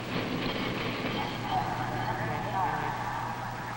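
Freight car rolling down the hump incline of a rail yard, a low steady rumble with faint wheel squeals and rail noise beneath a narrator's voice.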